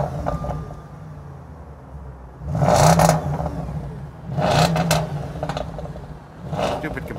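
A 2012 Audi S5 engine starts and then revs in two or three short blips, each rising and falling between quieter idle stretches.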